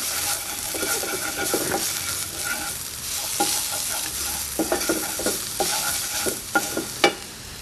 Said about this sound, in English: we will just cook this very briefly. Just to perfume the wok with the garlic